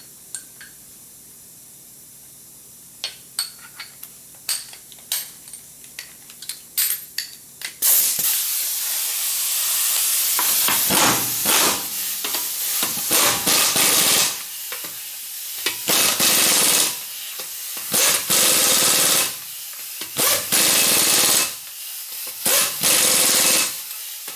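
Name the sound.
torquing lug nuts with a 120 ft-lb torque stick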